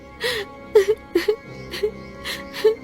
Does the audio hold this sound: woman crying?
yes